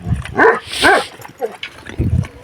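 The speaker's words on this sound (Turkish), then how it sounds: "Bu da bozoya havlıyor, dürzüyü." A dog barks several times in a quick irregular series outdoors on a farm, fairly close and loud, with a low voice murmuring near the end.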